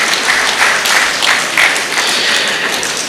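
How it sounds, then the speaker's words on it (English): Loud, sustained applause from an audience at a Rotary district installation ceremony, a dense wash of many hands clapping steadily for about three seconds without pause. "Friends, please give them a loudest applause and appreciation."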